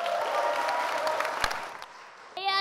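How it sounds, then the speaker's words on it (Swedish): A warm round of applause greets Mark and Jakob coming on stage at a 50th birthday party, steady crowd clapping that thins out near the end as music or a voice starts. "vi börjar med att hälsa Mark och Jakob upp på scenen med en varm applåd"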